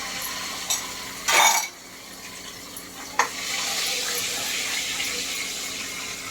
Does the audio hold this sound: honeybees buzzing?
no